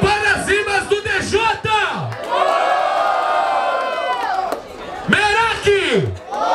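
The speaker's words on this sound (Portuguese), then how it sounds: "Muito barulho para as rimas do DJ!" A packed audience at a Brazilian hip hop freestyle battle roars, cheers and shouts in a long sustained swell, with an announcer's excited voice ringing out before and after the noise.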